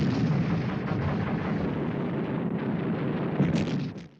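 Sound effect of Japanese artillery fire at Iwo Jima: a continuous heavy rumble of bombardment with overlapping booms, loud and dense throughout before trailing off at the end, with no talking.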